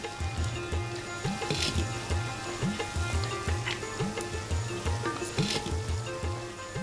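Raw jackfruit fritters fry in hot oil, a soft constant sizzle and bubbling heard up close beneath a looping rhythmic tonal background.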